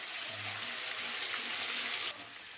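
Mustard seeds drop into hot oil in a pan while cooking street food, making a bright, even crackling sizzle that holds steady and then eases off abruptly, with no talking.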